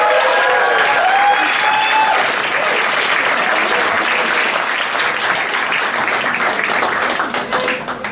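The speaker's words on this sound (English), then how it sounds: "Give him a really very warm applause for Marc Kochzius" A comedy-night audience breaks into warm applause to welcome a marine biologist to the stage, a loud, sustained wash of clapping that slowly thins toward the end, with a few voices mixed in.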